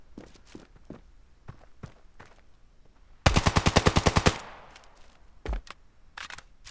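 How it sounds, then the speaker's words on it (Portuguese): Gunfire in the mobile shooter Standoff 2: a rapid automatic burst of about a dozen sharp shots, followed by a single loud shot, set among light, irregular in-game footsteps. "Tá um som de tiro lascado aqui, ó."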